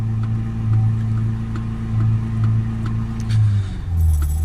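A Ford Transit Custom 2.2 diesel engine, suffering an oil level temperature sensor fault, revs up to around 2500 RPM and holds there with a loud, steady drone that swells and eases, then climbs again near the end.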